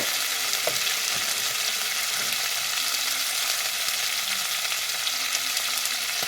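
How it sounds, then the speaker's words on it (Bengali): Crab fries in a pan with salt and turmeric, giving a dense, even hiss of hot oil that runs steadily the whole time, with a few faint stirs beneath and no voices. "ভালো করে ভেজে নিতে হবে আর পরিমাণ মতো নুন আর হলুদ দিয়ে দেবে"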